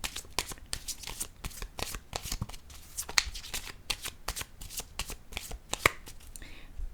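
A deck of cards is handled to draw a pink card, giving a rapid run of crisp, close papery flicks and riffles that continue throughout at moderate volume.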